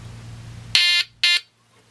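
Electronic buzzer tone from a circuit soldered on a 33-in-1 deluxe electronic lab kit: two loud, shrill, buzzy beeps, each about a quarter second long, with a short gap between them, following a low background hum.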